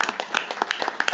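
Scattered applause at a commission meeting, a small group of people clapping in an uneven, moderately close patter of sharp claps with no voices over it.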